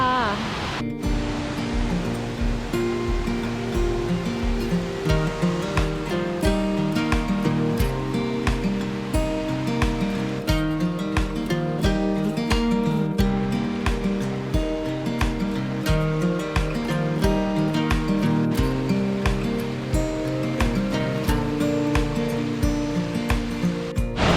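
A continuous roar of falling water from a waterfall near Luang Prabang, Laos, runs throughout, mixed with music playing over it.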